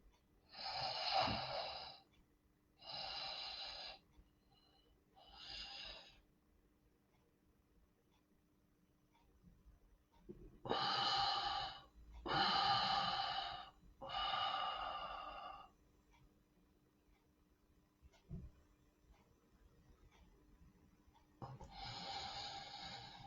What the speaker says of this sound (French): 3 temps à l'inspire, 3 temps d'apnée, 3 temps d'expire, 3 temps d'apnée à poumon vide